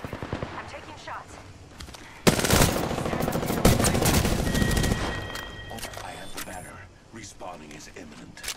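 Apex Legends gunfire rattles in loud sustained automatic bursts and sharp single shots, layered with game effects and voices talking over the shooting.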